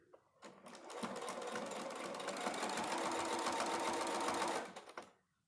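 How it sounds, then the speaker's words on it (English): A sewing machine runs in one continuous, close stretch of several seconds while sewing binding onto a triangle quilt, starting and stopping cleanly with nothing else heard. "we're going to start off the quilt, and we're going to sew all the way down"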